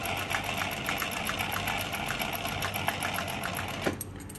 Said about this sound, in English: I'm going to do a ring straight stitch first as support.